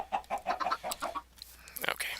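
Minecraft chickens cluck in a quick run of short, clipped notes, fairly close and soft, followed by a brief pause and a few scattered game sounds.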